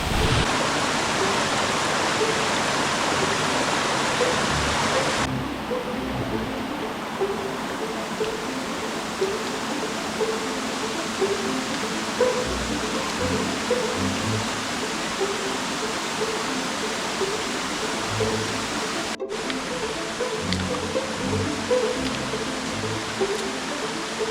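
A stream runs through a steep ravine near Tat Mok waterfall in Thailand, making a steady, close rushing of water with no break across the whole stretch.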